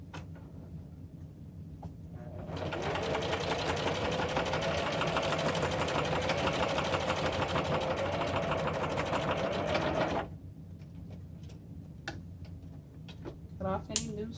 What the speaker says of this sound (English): I'm just going to sew across really close